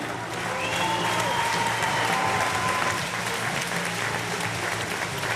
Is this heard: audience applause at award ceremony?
yes